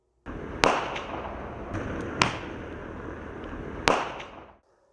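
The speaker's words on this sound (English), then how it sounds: "Peony. This is a ball of colored lights that spreads out after exploding." A peony firework bursts in three sharp pops over a steady crackling hiss, heard at a moderate distance before everything cuts off.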